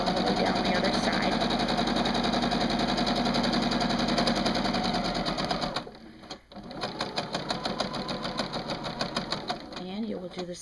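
A sewing machine runs steadily, stitching fabric for a yo-yo quilt block with leaves, with a continuous close whir for about six seconds before it stops and a person talks.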